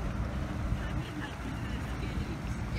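A steady low engine rumble with wash of water and wind, a motorboat passing close by on the water off San Diego, continuous throughout.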